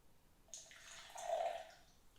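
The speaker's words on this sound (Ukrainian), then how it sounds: "Ми е, висипаємо це в нашу склянку, наливаємо трохи водички." A little water poured into a glass holding a powdered Fitline drink mix, a soft, faint splashing trickle lasting about a second and a half and heard alone.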